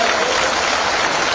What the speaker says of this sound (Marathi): आपल्या आदरणीय स्वरूपाताई यांच्यासाठी टाळ्या झाल्या पाहिजे